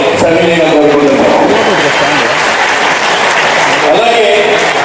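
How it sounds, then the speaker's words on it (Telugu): An audience at a school anniversary celebration claps loudly and continuously, a dense wash of applause that fills the space. "ఒకసారి గట్టిగా క్లాప్స్ ఇవ్వాలని సవినయంగా కోరుకుంటున్నాను"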